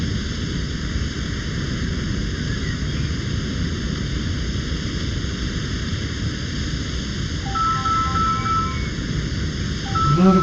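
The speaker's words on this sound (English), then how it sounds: "Not a good time for a phone call." A phone rings briefly in the Firefighting Simulator Ignite video game during a summer camp cabin fire, a few short electronic tone bursts near the end over a loud, steady hiss.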